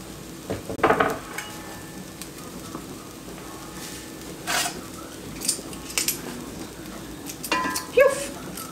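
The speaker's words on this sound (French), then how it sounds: "on va ajouter l'oignon émincé et 2 gousses d'ail qu'on va presser ou hacher" Minced onion and garlic sizzling against browning meat for an autumn pumpkin chili, a steady low frying hiss with a few utensil scrapes and stirring clinks spaced through the stretch.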